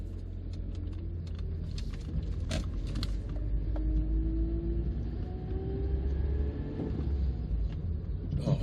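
A 2003 MG TF135 with its K-Series engine running on the move, a steady low rumble with rising gear-change tones and occasional interior creaks, continuous and fairly close throughout.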